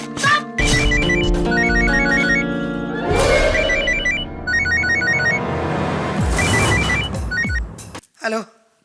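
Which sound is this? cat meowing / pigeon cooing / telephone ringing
telephone ringing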